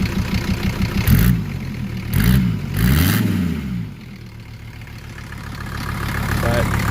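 A Mercedes OM617 diesel engine runs through a temporary exhaust, a steady low rumble that swells in a few short revs before settling back to idle, with speech over it.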